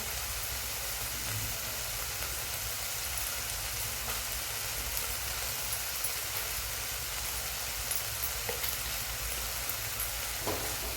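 Roasted gram flour stirred in a pan while cooking, giving a steady, fairly faint sizzling scrape that runs throughout with small clicks, no speech.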